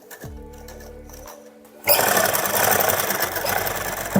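Sewing machine stitching suit lining fabric, a steady loud whirring hum that starts abruptly partway through and runs continuously to the end after a few quiet setup clicks.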